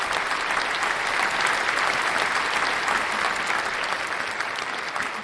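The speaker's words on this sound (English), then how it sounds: "let's give that a round of applause" Sustained round of applause, a dense even patter of many hands clapping for over five seconds, easing slightly toward the end with no voices over it.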